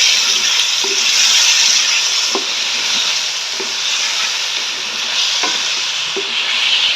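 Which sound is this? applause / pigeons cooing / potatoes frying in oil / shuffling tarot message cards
potatoes frying in oil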